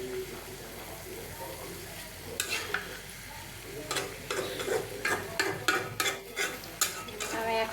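A spatula stirs and turns ilish fish head with lotiraj in a hot pan over a soft sizzle, with scraping strokes that grow louder and more frequent toward the end.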